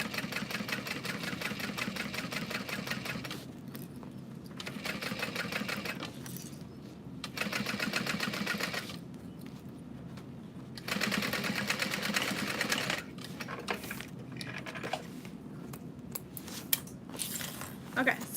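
A sewing machine stitches a bag with hardware and lining in a steady mechanical chatter, starting and stopping repeatedly in runs of a few seconds, close and continuous with brief pauses and a small clink near the end.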